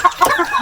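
A rooster clucks in a few quick, close, loud bursts, a farmyard chicken sound with no voices over it.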